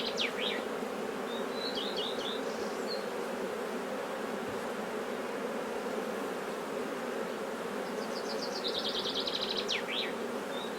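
Honeybees drone steadily and densely around an open hive during a colony inspection, loud and close, with faint bird chirps drifting through at the start and near the end and no talking.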